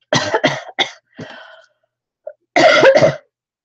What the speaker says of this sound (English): Sorry, excuse me. Coughing away there.